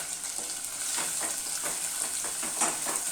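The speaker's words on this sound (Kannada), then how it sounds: "ಆನಿಯನ್ಸ್ನ ಹಾಕಿ ಫ್ರೈ ಮಾಡ್ಕೋಬೇಕಾಗುತ್ತೆ ನಾವು." Onions fry in hot oil with green chillies and ginger, a steady close sizzle with rhythmic scraping strokes of stirring, and no voices.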